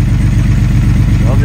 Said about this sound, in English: there goes the air-cooled turbo